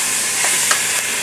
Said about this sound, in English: and I'm going to sear the meat.